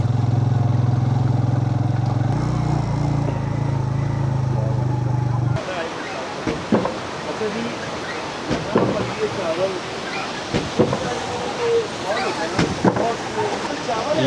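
Motorcycle riding through Leepa Valley, Kashmir, near the Pakistan-India border: a steady low engine drone for several seconds, then a rougher stretch of rushing wind-like noise with scattered knocks and bumps.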